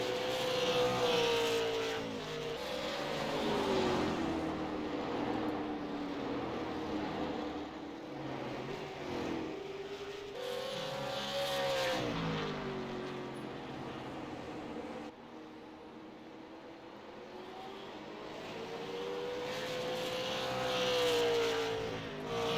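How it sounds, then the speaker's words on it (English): Race cars lap a track during a 50-lap race, their engines rising and falling as they pass at a distance, with repeated swells and Doppler-like pitch sweeps over a continuous background roar. "So Butler, he's really got that thing on rails right now. Coming around to start lap number 12"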